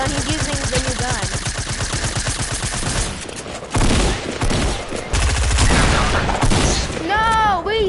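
Gunfire in an online PS4 shooter, with rapid bursts and booming shots heard over game music and effects while players talk loudly over the action.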